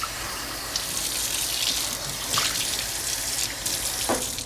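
Tap water runs steadily into a kitchen measuring cup, a continuous splashing gush with small shifts in pitch as it fills, close and alone.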